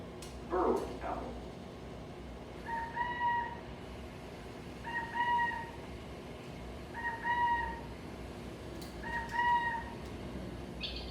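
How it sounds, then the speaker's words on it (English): Burrowing owl calls recorded outdoors, four repeated two-part hooting, quail-like phrases evenly spaced about two seconds apart, moderately near over steady background hiss, preceded by a short burst of other noise. "adult burrowing owls make one of my favorite owl sounds. It starts out kind of sounding like a quail, I think, and ends up more like a lunatic chicken"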